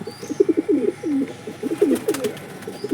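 Andhra breed pigeons coo up close in a series of throaty, bubbling calls. The phrases are irregular and overlap, with faint rustling between them.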